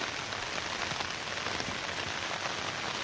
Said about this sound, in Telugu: ఎంత వర్షం, సౌండ్ కూడా చూడండి ఎంత పెద్ద. ఫుల్ వర్షం కంటిన్యూ పడుతూనే ఉంది.